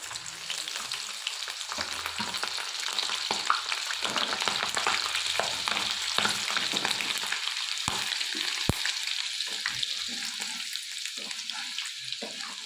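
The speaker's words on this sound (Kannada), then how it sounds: "ಈಗ ಬೆಳ್ಳುಳ್ಳಿ ಫ್ರೈ ಆಗಿದೆ" Garlic frying in hot oil in a pan after okra was fried, a dense continuous sizzle with occasional stirring clicks, close and steady throughout with no talking.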